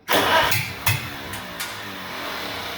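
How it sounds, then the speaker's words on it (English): A Farmall H tractor engine with a freshly rebuilt carburetor cranks for a test fire, giving a brief loud burst of cranking and a pop before fading to a low steady rumble, with no talking. "So I'm going to hop up on the driver's station and give her a test fire."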